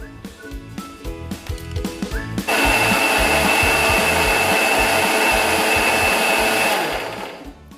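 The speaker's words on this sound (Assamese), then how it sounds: "মিক্সিত পিচি লৈছোঁ ধুনীয়াকৈ" A kitchen mixer grinder whirs loudly and steadily for several seconds as it grinds soaked melon seeds with water, starting abruptly after a brief stretch of background music and winding down at the end.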